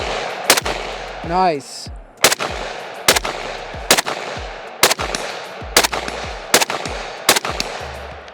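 Sharp, loud semi-automatic rifle shots from a Nylaug AUG-style bullpup rifle crack out one at a time in a steady, evenly spaced string of about eleven, each ringing briefly outdoors, with a short exclamation from the shooter between shots.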